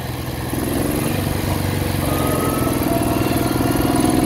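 A 1968 Moto Guzzi V7 700 motorcycle engine with freshly sleeved cylinders runs steadily, a loud, close, continuous throb that swells slightly a moment in and holds.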